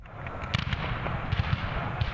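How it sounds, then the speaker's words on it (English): Cannon fire at a Civil War battle reenactment in a North Florida pine forest at Olustee Battlefield Historic State Park, several distant booms and bursts over a rumbling background, no talking. "The loud booming of cannon fire rips through the North Florida pine forest 15 miles east of Lake City"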